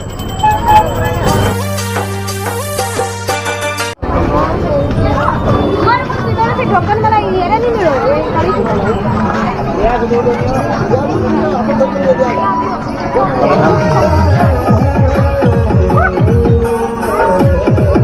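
A large crowd chatters at a crowded Bol Bam fair, dense close babble of many voices throughout with brief music early on and occasional traffic noise mixed in.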